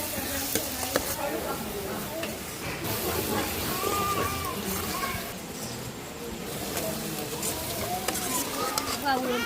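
Cooked pieces stirred into a sizzling gravy in a pan, with a continuous frying hiss and scraping stirs, while people talk over it.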